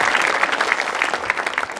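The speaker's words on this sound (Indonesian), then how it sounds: "Tepuk tangan dulu dong untuk semuanya." Audience applause at a televised stand-up comedy show on an Indosiar stage: dense, steady clapping with a few whoops over about two seconds, loud and close throughout.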